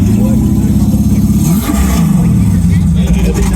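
An Italian sports car engine roars steadily at a vintage car show, its pitch dipping and climbing as it revs, loud and close, with a voice partly audible over it.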